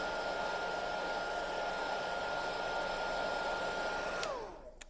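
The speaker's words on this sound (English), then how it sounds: "I'm going to hit this with the hairdryer again" Hair dryer heating a stencil rub-on transfer on a farmhouse sign, a steady loud whooshing blow with a constant motor whine that runs almost the whole time, then winds down and shuts off near the end.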